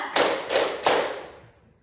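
Three unison claps from a room of pupils land in quick even succession, sharp and close, followed by a fading echo and near silence.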